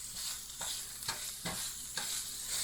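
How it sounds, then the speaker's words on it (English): A one-person stir fry sizzles in a pan, with a constant crackling hiss and regular scraping strokes of a spatula about every half second, close and alone. "Sizzle."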